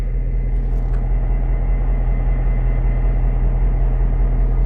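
A BNSF EMD GP25 diesel locomotive idling in a small switching yard, a loud, steady low rumble with constant droning hum and no other sounds.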